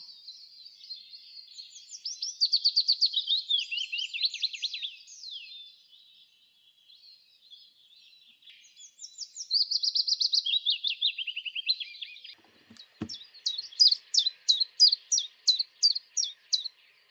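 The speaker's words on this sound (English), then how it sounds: "Willow warblers have a sweet but slightly wistful descending song." A willow warbler sings sweet, descending warbling phrases repeated with pauses, followed by a brief click and a series of rhythmic repeated chirps near the end.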